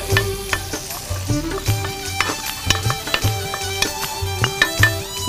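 Fish fry in wood-pressed oil, giving a steady crackling sizzle. Rhythmic scraping stir strokes fall about every half second over it, with faint tonal hum in the background and no speech.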